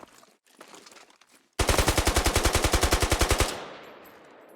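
Automatic weapon fire in the Squad video game: a single rapid burst of about twenty evenly spaced loud shots lasting roughly two seconds, close, followed by a fading echo tail, with faint movement sounds before.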